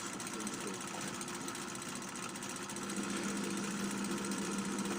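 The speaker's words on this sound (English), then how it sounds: "it's a fairly quick process to drill them in the pillar drill." A pillar drill with a 55 thou bit drills Duchess wheels, giving a steady, fairly quiet mechanical whir with a faint hum running evenly throughout.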